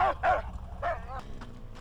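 Dog barking in the Mad Max video game, three or four quick, close yips and barks in a short burst over a low rumbling game background.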